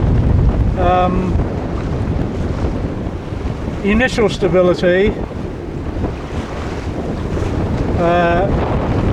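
Heavy wind buffets the microphone as a small sailboat, Mingming II, is pushed hard through the water on sea trials, with a steady wash of waves and brief talking in the middle.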